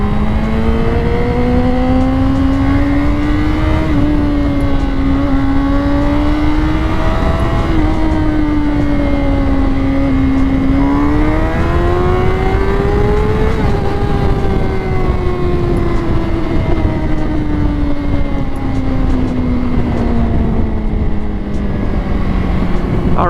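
A twenty-year-old Honda CBR 600RR motorcycle rides along twisty roads, its engine a loud, continuous onboard drone whose pitch swells and sinks as the rider works the throttle, with no talking.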